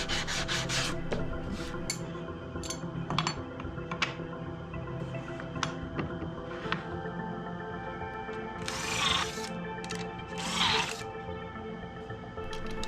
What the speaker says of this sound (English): I'm just going to take a little sandpaper and clean up my little rabbits here for my T-track.